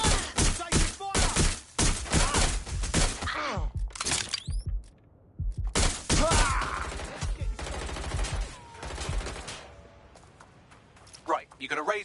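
Rapid bursts of gunfire in the video game Watch Dogs Legion, loud dense volleys of cracking shots through the first half, then scattered shots later, with in-game voices talking over parts of it.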